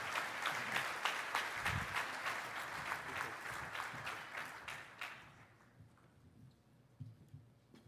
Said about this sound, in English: Please give Admiral Paparo a big round of applause